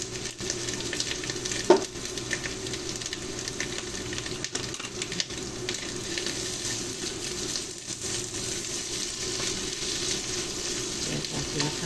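Mushrooms fry in olive oil in a pan, a steady, even sizzle holding at moderate level throughout with a brief louder clink near the start and no talk.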